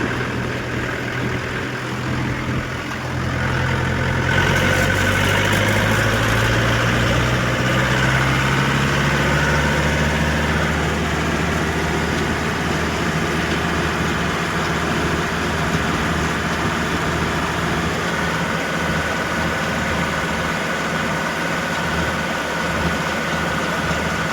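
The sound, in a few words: tractor engine idling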